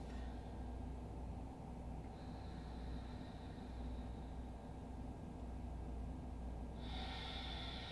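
Slow, deep breaths during a yoga class, drawn in and let out through the nose with a rough, airy rush that runs continuously over a steady background hiss.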